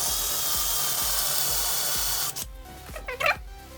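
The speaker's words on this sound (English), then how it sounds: "So I've done the marking here. So I'm going to drill a hole." A power drill bores a hole in a part for a battery-operated hot wire foam cutter. A steady whine with rhythmic pulses runs for about two seconds, then stops, and is followed by brief, quieter handling noises.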